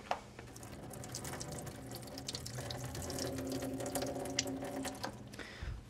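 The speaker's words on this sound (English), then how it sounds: "Just going to drain them." Soaked, plump raisins drained in a sink, with a steady close stream of running water splashing for several seconds and small clicks and knocks throughout.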